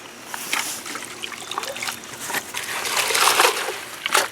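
Yellowroot roots are swirled and agitated in muddy water, sloshing and splashing in irregular bursts with trickling between, growing busier and louder toward the end.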